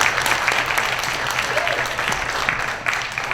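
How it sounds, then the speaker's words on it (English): An audience at a school student of the month ceremony claps for the winners, a dense burst of applause that fades gradually, with some voices mixed in. "let's give a big round of applause to my winners today"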